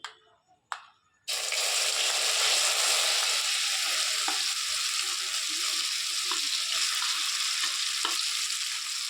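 Grated potato mixed with beaten egg drops into hot oil in a wok and sizzles loudly and steadily, a continuous close frying hiss after a few brief clatters at the start, with no talking.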